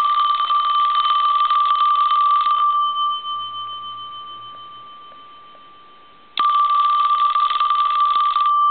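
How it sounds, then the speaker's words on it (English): A Western Electric Princess telephone bell rings loudly in two long bursts, a steady ringing for about two and a half seconds, a tone fading away, then another burst, with no voices. "I'm going to ring the phone one more time."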